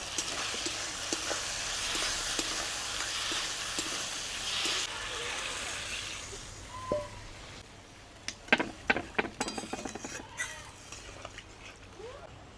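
Fried potatoes are stirred into a cooked spice masala in a pan at a village kitchen. A soft sizzling hiss runs first, then a burst of sharp scraping and clattering stir strokes comes near the end.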